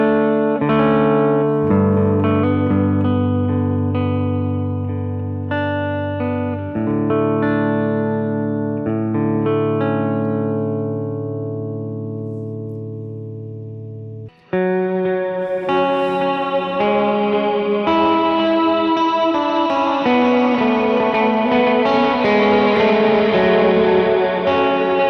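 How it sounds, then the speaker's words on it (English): Electric guitar runs through TONEX captures of a Vox AC30 and a Mesa Prosonic amp, sustained harmonically rich chords for about fourteen seconds, a brief break, then a brighter, busier, harder-driven passage, steady and loud with no voices. "So that was AC30 left, Prosonic right."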